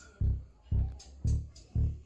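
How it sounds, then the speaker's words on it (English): Bass line from the beat: four deep, booming bass notes in an even, spaced rhythm, loud and close, each one thumping and then decaying. "so actually there are two bass lines."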